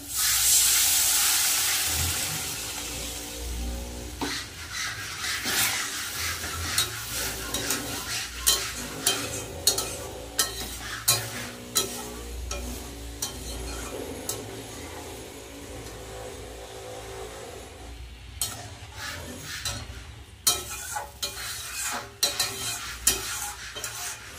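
Egg curry gravy being stirred in a pan just after a little water is added, with a steady close sizzle and frying hiss under repeated scraping stirs throughout.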